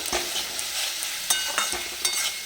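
Spices frying in oil for a mutton red curry, a bright steady sizzle with a few sharp stirring scrapes, close by.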